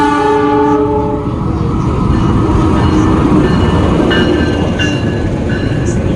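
An Argo Bromo Anggrek New Generation passenger train rumbles loudly and steadily nearby, with a deep continuous roar, rattling and a few tonal horn-like notes early on.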